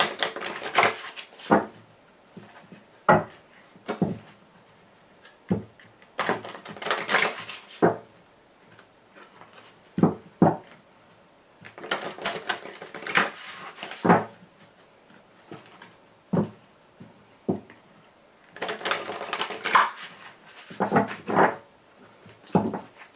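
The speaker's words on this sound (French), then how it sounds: "en espérant que la carte elle saute, parce que c'est pas évident, les cartes sont très très grandes" Very large oracle cards are shuffled by hand in bursts of heavy papery riffling and slapping, separated by single sharp taps and pauses, close and fairly loud.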